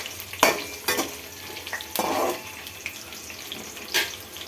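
A tomato masala mixture stirred in a pan over a medium flame, giving soft scraping stirs and faint sizzling with a few louder spoon strokes against the pan, close and alone.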